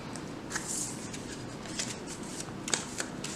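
Transformers TCG trading cards are riffled and shuffled up close, producing soft continuous papery rustling with repeated crisp flicks and snaps.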